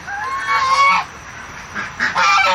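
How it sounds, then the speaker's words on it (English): Domestic Pekin and runner ducks give loud, nasal honks up close in two short bursts with a brief pause between, the calls harsh and repeated, with no talking. "That's the honking you hear there."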